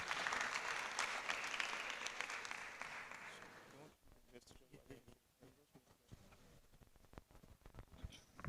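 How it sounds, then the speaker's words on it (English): Audience applause at a UCJUI multi-event gathering, dense clapping for about four seconds before thinning into scattered claps, with talk throughout. "Please, a louder round of applause."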